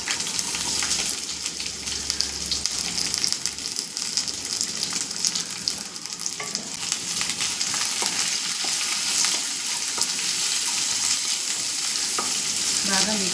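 Onions, ginger and garlic frying in a pan for capsicum paneer curry, a loud, dense and constant sizzle with rushing hiss and occasional stirring sounds, close up with no one speaking.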